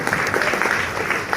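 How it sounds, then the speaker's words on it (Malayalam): A church congregation applauds, a dense burst of clapping from many hands that stays steady and fairly loud for a brief moment. "കുരിശ്, നല്ല കൈയടി കൊടുക്കാം."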